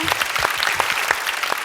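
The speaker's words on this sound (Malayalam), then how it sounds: "ഉഗ്രൻ കൈയടി." Studio audience applauding in a TV talent show set, a brief dense burst of steady clapping heard alone at moderate loudness.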